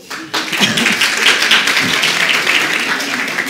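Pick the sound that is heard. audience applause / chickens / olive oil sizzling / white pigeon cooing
audience applause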